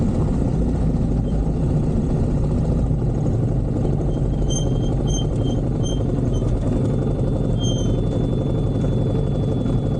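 A 1988 Yamaha Ténéré motorcycle engine idles steadily in the Amazon rainforest, a continuous low rumble holding for the whole stretch with a faint high whine creeping in near the end.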